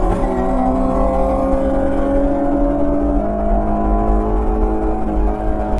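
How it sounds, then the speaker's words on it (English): 2023 Nissan Z Nismo driving on a race track, a loud, steady engine drone with a tone that slowly falls as the car holds its speed, close and continuous without voices. "Yes, that's a Nismo on the track."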